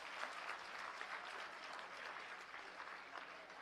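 An audience at a school block inauguration claps steadily, a soft and distant wash of applause without much cheering, lasting the full few seconds.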